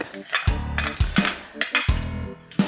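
Garlic hits hot oil in a frying pan beside onion while cooking pancit, giving a close, loud sizzle broken by rhythmic spatula scrapes and clanks against the pan about every half second, with no talk.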